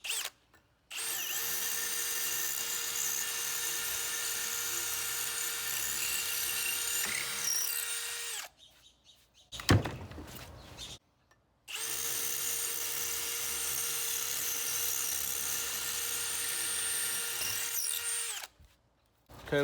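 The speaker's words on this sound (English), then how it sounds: "It's too freaking loud with hammer drill." A Milwaukee M18 Fuel 3697-22 drill runs in hammer mode with a loud, harsh buzzing whine in two long sustained runs, each about seven to eight seconds, separated by a brief clatter and silence.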